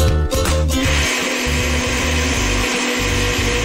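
An electric blender runs steadily, mixing cake batter for a stovetop pot cake with lemon or orange zest or cinnamon, a loud close motor whir with a brief rough burst at the start and a constant drone after.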